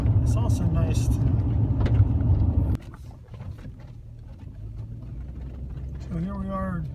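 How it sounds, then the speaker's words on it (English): Car driving down a road on a road trip to Carrizo Plain National Park, with a loud steady engine and road rumble that drops sharply partway through to a quieter drone, a voice talking briefly near the end. "So here we are driving."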